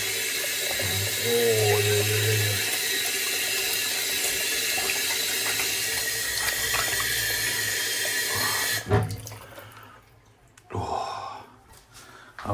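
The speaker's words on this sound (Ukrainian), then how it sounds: "Надо ручки помыть." Hands washed under a running tap at a sink: a steady, loud rush of water for about eight seconds, then the flow stops, leaving brief splashes and handling noises.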